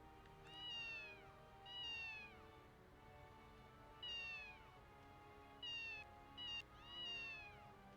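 Cat in the game Ys II Chronicles meows repeatedly, five or six clear mews spaced irregularly over a steady low ambient game background, with no talking.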